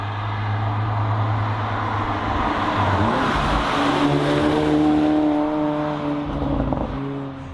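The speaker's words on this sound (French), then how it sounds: "Pour un 4 cylindres, ça fait quand même un bon petit bruit." A Volkswagen T-Roc R's turbocharged four-cylinder engine of about 300 hp, fitted with an optional sports exhaust line, revs loudly and steadily, its pitch climbing and falling across several throttle blips with no talk over it.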